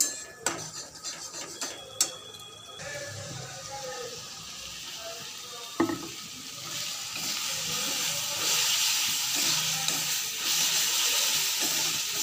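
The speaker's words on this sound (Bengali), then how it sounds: "মশলাটা কষিয়ে এসছে এবারে জল দিয়ে দেবো পরিমাণ মতো জল দিয়ে দেবো যাতে আলুটা সেদ্ধ হয়" Water poured into a pan of cooked, fried spices for a Bengali soybean curry, a steady rising hiss and sizzle that swells and holds after a few clinks of a utensil against the pan.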